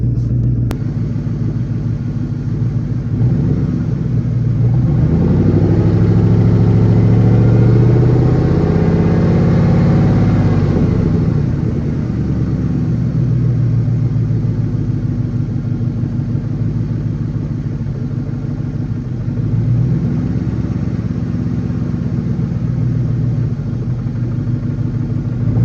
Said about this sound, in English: Damn, that thing's loud. That's what happens when you blow off the exhaust.